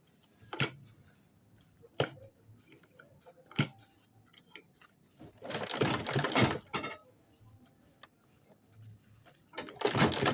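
Short bursts of a sewing machine stitching a fabric strap over the rough edge of a handmade water bottle bag, with sharp ticks and clicks between the runs, close and moderately loud, no talking.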